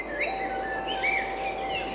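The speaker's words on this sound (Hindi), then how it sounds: "इधर पक्षियों की आवाज के साथ साथ" Birds sing and chirp outdoors at Chopra Kund while insects trill steadily underneath, with several overlapping calls and a sustained high buzz filling the whole stretch.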